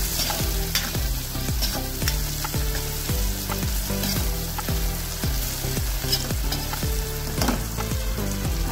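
Onion fried to a crisp brown with turmeric and salt hisses steadily in the pan while a spoon scrapes it around in a brisk regular rhythm of repeated strokes, close and loud.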